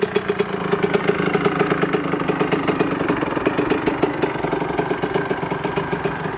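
A rebuilt Yamaha YZ125/YZ144 two-stroke dirt bike engine runs steadily nearby, with a rapid, even buzzing putter and a rattly mechanical clatter that holds a constant pace throughout.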